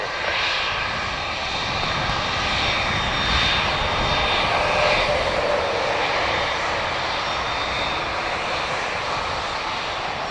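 Qatar Airways jet taking off from runway 10 right at Dublin Airport, a loud sustained engine roar with broadband hiss that swells and holds steady throughout, with no voices.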